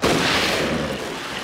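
Gunshot in the western film Purgatory, a loud broadband blast with a lingering booming tail that fills the whole moment, no speech over it.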